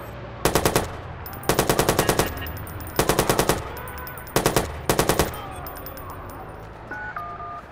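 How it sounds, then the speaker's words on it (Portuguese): Video game gunfire in Watch Dogs: five bursts of rapid automatic shots, loud and close, evenly spaced over several seconds, followed by a few faint electronic beeps. "Tem alguém atirando aqui!"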